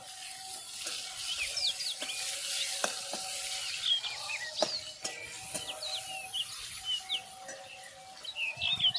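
Whole cumin seeds and chopped ginger pieces frying in a pan for paneer butter masala, a soft crackling sizzle with small pops and a few utensil clicks, fairly quiet and close, without speech.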